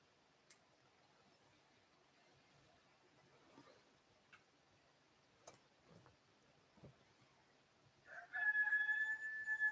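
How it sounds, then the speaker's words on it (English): A rooster crows at the break of day, a bright harmonic call rising near the end after a quiet stretch broken by a few faint clicks and knocks. "Oh, heard that rooster."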